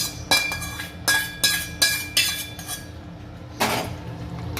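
A spoon scraping and knocking against a pan while paneer curry with sautéed capsicum and vegetables is stirred, heard as a run of sharp metallic clinks in quick rhythm, then a pause and one more scrape, close and alone.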